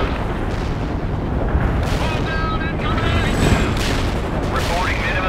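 Artillery shells firing and landing in the real-time strategy game World in Conflict: a dense, steady rumble of booms and blasts running throughout, loud and sustained, with radio-style chatter and tonal effects layered over it.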